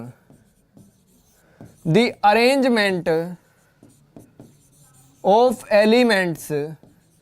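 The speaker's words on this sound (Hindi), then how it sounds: "एक छोटी सी बात में डेफिनेशन यहां पर लिखने जा रहा हूं" Marker or chalk scratching steadily on a classroom board as a chemistry definition is written, with a teacher's voice speaking in two bursts over the quiet strokes.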